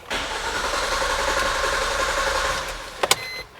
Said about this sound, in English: Now I'm going to crank the car over